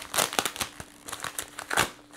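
Bubble wrap and packaging crinkle as a cardboard package holding Klein limited-edition lineman's pliers is unwrapped by hand, with close, loud rustling bursts that come and go in an uneven rhythm and no talking.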